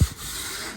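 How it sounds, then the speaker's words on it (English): Steady abrasive rubbing of sandpaper across a wooden butcher block, a continuous scratchy hiss close to the mic with a couple of low thumps at the start and end. "They probably ain't gonna care that I'm sanding this down."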